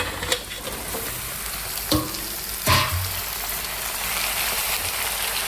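Bottle gourd pieces fry in a pan with onions, green chillies, cumin and garlic, giving a steady, close hiss of sizzling oil broken by a few clunks and scrapes of stirring.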